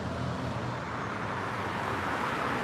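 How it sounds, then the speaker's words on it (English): A loud truck rolls past near a rail line, a steady heavy roar of engine and tire noise filling the whole stretch without easing off. "loud truck"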